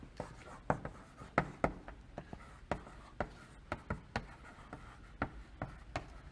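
Handwriting during a lecture on graph adjacency lists, likely chalk or marker on a board: a series of sharp, irregular taps and strokes at close range, fairly quiet, with no voice.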